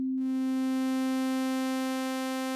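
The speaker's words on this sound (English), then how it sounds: "So I will morph this into a sawtooth waveform." A steady, buzzy synthesizer tone with a rich stack of harmonics, starting thinner and quickly becoming a bright sawtooth sound, held evenly.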